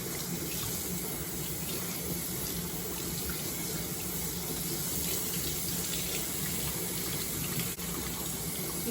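Steady stream of lukewarm tap water running into a sink while hair is rinsed during a co-wash, a continuous close hiss and patter with no talking.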